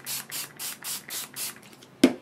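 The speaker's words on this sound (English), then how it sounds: "So I'm just going to spray it with some water" Hand pump spray bottle misting water onto off-white seam binding for a card project: six quick rhythmic hissing spritzes, close and clear, followed by a single sharp click or knock at the end.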